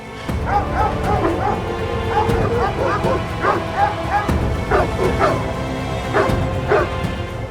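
Street dogs bark and yip in quick overlapping bursts, fairly close and loud, with a voice talking underneath.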